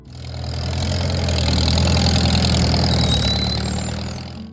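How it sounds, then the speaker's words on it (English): A Farmall Model H farm tractor engine idles steadily close by, a continuous low rumble with a throbbing even beat holding at a constant loudness throughout, with no voices over it. "Number 4, the Farmall Model H."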